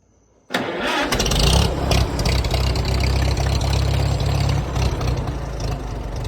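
An IH Farmall M tractor engine fitted with a 3-point hitch starts abruptly after a quiet moment and settles into a loud, steady, low throbbing idle close by, with no talk.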